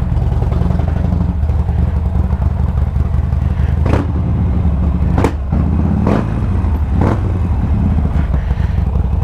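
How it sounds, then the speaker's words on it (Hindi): A Harley-Davidson Sportster 1200 engine rumbles in a loud, deep, continuous idle close by, with several sharp throttle blips or clattering bursts punctuating the steady thump. "Harley Davidson स्पोर्टस्टर 1200"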